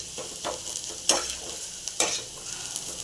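Onions frying in a pan for besan bara, a steady close sizzle with a few sharp scrapes and stirs of the spatula, no voices.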